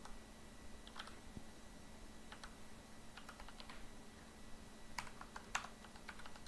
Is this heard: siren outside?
no